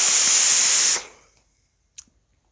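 A breathy exhale of vapour from a Justfog Q16 Pro e-cigarette hisses for about a second, then fades quickly into silence, followed by a small click.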